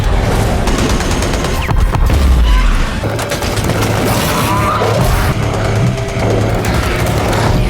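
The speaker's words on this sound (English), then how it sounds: "Another explosion sends shrapnel flying" Film battle sequence with continuous dense gunfire and a heavy explosion rumbling near the start, chaotic crashes and debris throughout at high, sustained loudness.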